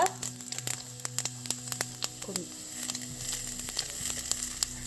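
Mustard seeds and urad dal sizzle and pop in hot oil, with rapid crackling bursts over a steady frying hiss, close up.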